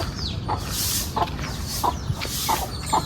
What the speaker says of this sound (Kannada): ಇನ್ನೊಂದು ಕೋಳಿ ಮತ್ತು ಅದ್ರ ಕೋಳಿ ಪಿಳ್ಳೆಗಳು ತೋರಿಸ್ತೀನಿ.